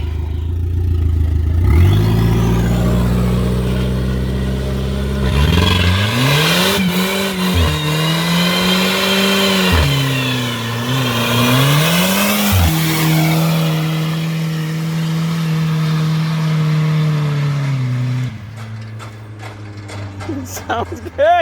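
Car doing donuts with long squealing tire howls and a revving engine rising and falling in pitch, loud and close, fading near the end.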